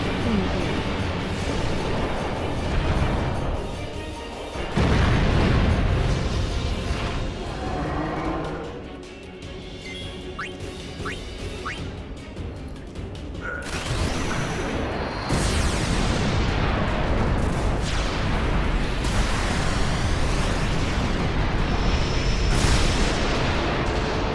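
Artillery explosions in the video game Final Fantasy X, heavy booms and bursts rolling over a dense battle soundscape with music, loud and near throughout, with a brief quieter dip midway.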